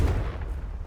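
A Confringo spell blast in a video game, a single short booming explosion that hits hard and quickly decays into a low rumble.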